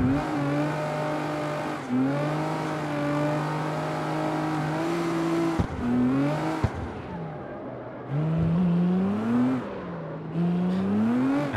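Game car in CarX Street drifting, its engine revving hard and continuously with rising and falling pitch as the throttle is worked, loud and close with brief lifts and gear changes, alone without talk.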